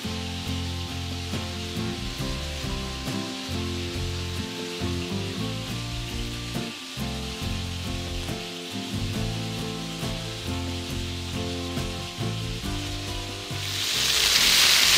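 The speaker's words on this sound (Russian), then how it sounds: "Жарим 2-3 минуты с другой стороны." Perch fillets frying in a hot pan, a steady dense sizzle and crackle of oil throughout, close and loud, with a brief louder hiss near the end.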